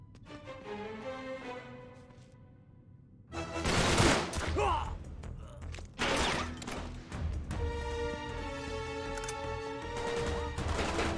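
Gunfire erupts in a firefight in the video game Uncharted 3, loud bursts and shots after a quieter stretch of game music, with explosions and continuous music underneath.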